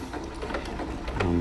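Sewing machine stitching tent mesh for an ultralight single-walled tent, a brief fast mechanical whir of rapid stitches, close and fairly loud.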